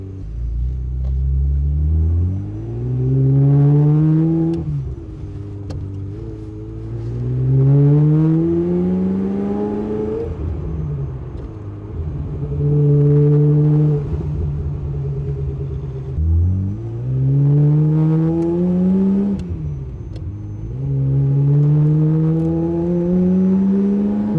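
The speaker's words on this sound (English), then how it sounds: "So we're going to test drive, and we will see if the car runs good." A Ferrari Spider engine revs up through the gears on a test drive, again and again. Each loud climbing pull is followed by a steady cruising drone, with no one talking over it.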